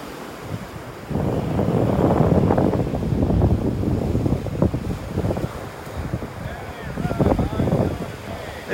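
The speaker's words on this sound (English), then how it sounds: "Nice little breeze out here today." A steady breeze gusts across an open beach in North Naples, Florida, rushing into the microphone in a broad, uneven roar that swells and eases, while a voice talks faintly underneath.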